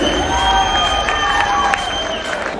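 Loud hall crowd at a champions' mega event in India, sustained cheering and whoops with shouts over a steady wash of applause, continuous throughout.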